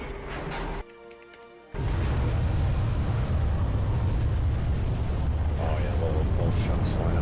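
Huge destroyable spires in a Halo 3 multiplayer mod crashing to the ground, a sudden heavy rumbling roar after a brief lull that holds loud and sustained, with talking mixed in.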